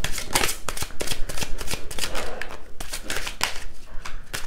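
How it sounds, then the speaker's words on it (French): Tarot cards shuffled by hand in quick, crisp riffling bursts, close and clear, with brief pauses between the rapid flutters. "Oh, mes cartes ont du mal à se mélanger."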